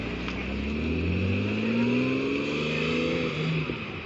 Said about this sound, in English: And there goes the Cayman.